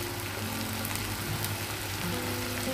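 Garlic paste stirred and fried in a pan for a marine batha fish curry, giving an even, close hiss of frying with soft crackle and no break across the short stretch.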